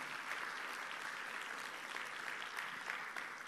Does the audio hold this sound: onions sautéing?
no